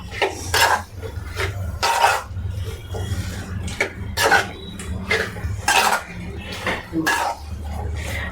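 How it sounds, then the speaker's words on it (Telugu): Washed chicken is stirred with turmeric, coconut powder and other spices in a metal pot, giving repeated loud scraping and clanking strokes of a spoon against the pot in an irregular rhythm, with a low background hum. "ఫైనల్గా మంచిగా కడిగి పెట్టుకున్న చికెన్ వేసుకొని మంచిగా కలబెట్టుకోవాలి"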